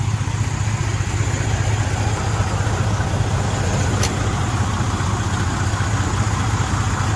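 A 2007 Freightliner Century 120 diesel truck engine idles steadily with a low, even rumble and faint rattle, close and continuous throughout.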